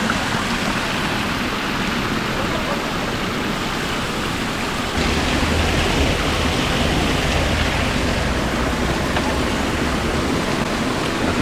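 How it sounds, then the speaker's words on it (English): Mountain water rushes steadily in a loud, close, broadband roar with no pauses, growing slightly fuller partway through, with no voices over it. "Good mountain water."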